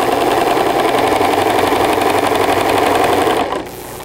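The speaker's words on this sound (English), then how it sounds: "So I'm going to sew it until I hit that 6-inch mark." A sewing machine runs steadily at speed, stitching trim to a fabric edge, with a loud, even mechanical whirr and rapid needle rhythm that stops abruptly near the end.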